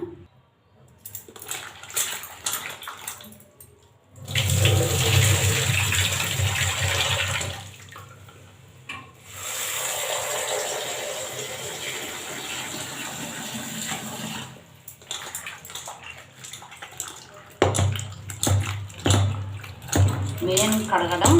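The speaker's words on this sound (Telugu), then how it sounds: "ఇప్పుడు ఈ కట్ చేసిన వంకాయలని శుభ్రంగా రెండు మూడు సార్లు మంచిగా వాష్ చేసేయాలి" Cut brinjal pieces are washed in water in a bowl, with two long bursts of sloshing, pouring and clattering close by and spoken talk before and after them.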